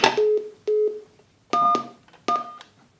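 Telephone keypad number tones from a keypad wired to an optocoupler circuit: four short, loud dual-tone beeps, each about a third of a second, sounding alone with brief gaps between them.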